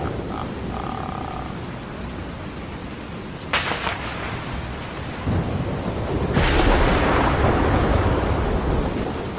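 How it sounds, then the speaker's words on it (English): Rain ambience for a Halloween-night show: a dense, continuous rain hiss with two louder rolls of thunder-like rumble partway through. "I can't get the rain to stop."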